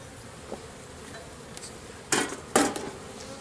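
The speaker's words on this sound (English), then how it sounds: "Just make sure the bees get out of the way as you're setting it down." Honey bees hum steadily around opened hive frames as the frames are handled. A couple of sharp wooden knocks and clunks cut through the buzzing near the end.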